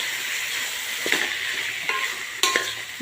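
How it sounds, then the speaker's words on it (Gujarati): A spoon stirs rice into fried tomato masala in a pan. Soft scraping strokes, a few of them sharper, sound close over a constant low sizzle. "હવે ચમચાથી મિક્સ કરી દઈશું"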